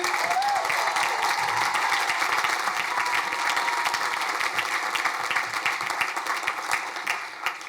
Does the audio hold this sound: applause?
yes